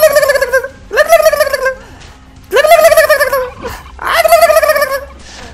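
Turkeys gobbling during a Christmas event in a video game, four loud, close bursts of rapid warbling gobbles separated by short pauses.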